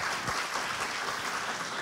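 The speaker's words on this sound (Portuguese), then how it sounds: "Uma salva de palmas." A church congregation applauds a guest introduced as the owner of a heavy-transport company, a soft, even wash of clapping heard from a distance, fairly faint and continuous throughout.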